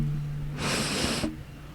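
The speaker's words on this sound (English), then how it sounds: "That was me sniffing it." A person sniffs hard at a microphone head, one close, breathy inhalation of about two-thirds of a second, loud and hissy against a low steady hum.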